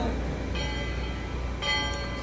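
A bell rings on the Magic Kingdom riverboat as the last departure signal; two bright strikes ring out over a steady engine and crowd rumble, with a short high tone after the second.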